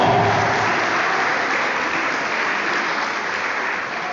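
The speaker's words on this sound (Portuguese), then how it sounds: "aplaudam ao Senhor aqui nessa noite" A church congregation applauds loudly and continuously, a thick, even wash of clapping that holds steady and tapers slightly at the end.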